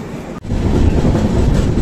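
Coromandel Express train rolling through Balasore station, heard from on board as a loud, steady rumble of wheels and carriage noise with rhythmic clatter.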